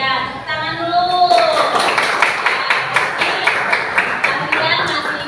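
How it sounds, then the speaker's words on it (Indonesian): Classroom of students clapping hands together in a brisk, rhythmic burst of repeated claps after a teacher's voice, the pattern steady and fairly close. "tepuk tangan dulu"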